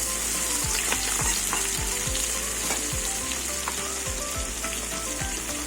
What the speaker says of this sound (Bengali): মাছগুলো ভাজা হয়েছে না একটু উল্টিয়ে দেখবো, না ভাজা হয়নি এখন, আরেকটু ভাজা হবে।